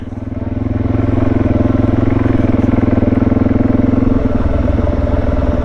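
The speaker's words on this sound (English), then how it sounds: "A couple of Africa twins by the looks of it." A Honda Africa Twin motorcycle engine drones loud and close with a steady rumble, then shifts tone as the bikes pass on a rural road.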